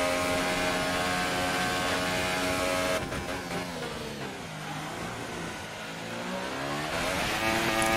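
A race car engine in an online racing game on the Austrian GP circuit revs hard and steadily, a loud, sustained harmonic drone that dips briefly mid-way through a bend before climbing again.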